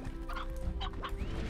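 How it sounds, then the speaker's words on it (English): Briar hens in the Slime Rancher video game cluck in quick, choppy bursts over a steady humming game soundtrack, several short fowl calls close together. "I hear more chickens."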